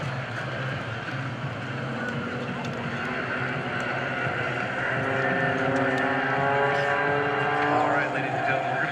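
Blue Angels jets maneuvering at a homecoming airshow, a steady loud roar of jet engines that swells slightly toward the end, with a commentator's voice over the public address.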